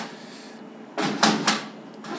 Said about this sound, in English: Hopefully the door opens.